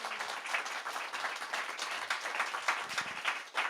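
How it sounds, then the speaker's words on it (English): Steady audience applause fills a room after a panel discussion, dense overlapping claps at an even level throughout with no talk on top. "Let's give them a round of applause."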